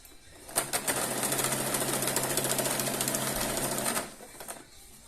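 A sewing machine stitches a straight seam along the bottom of a cotton dish towel, a steady close rapid mechanical whir running for about three and a half seconds before stopping, with quiet handling sounds before and after.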